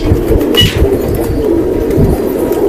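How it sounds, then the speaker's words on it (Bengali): A silver breed pigeon, a female, coos close by in low, throaty, repeated murmurs over about three seconds, with no one talking. "এই দেখেন কত সুন্দর একটা মাদি কবুতর"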